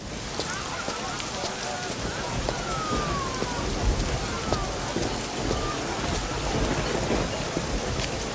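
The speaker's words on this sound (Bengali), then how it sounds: "দেখো বৃষ্টি এসেছে" Steady rain falls over a broad, dense wash of patter that stays at an even, fairly loud level throughout, with faint voices under it and no distinct thunder.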